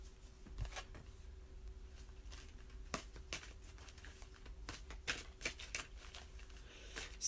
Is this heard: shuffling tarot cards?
yes